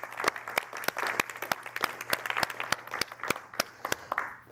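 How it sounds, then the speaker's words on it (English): An audience at an MIT IAP event, SIE Nexus II, applauds steadily for about four seconds, a dense room-filling patter of many hands with sharper individual claps standing out, with no voices. "I appreciate if you give them a round of applause as well."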